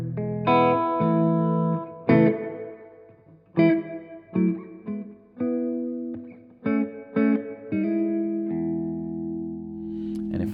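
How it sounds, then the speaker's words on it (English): Electric guitar played through a Blackstar HT Venue MK3 valve amp on the clean channel with the reverb turned up on its dark setting: strummed chords and short phrases ring out with decaying tails between strokes, close and fairly loud. "So this is the reverb at the moment on the dark setting."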